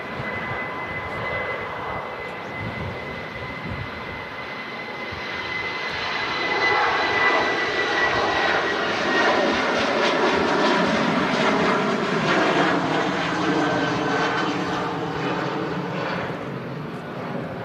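A 2XL aircraft passing at windy Manchester Airport, its engine roar building steadily from a distant hum to a loud, broad rumble and holding strong, with wind noise throughout.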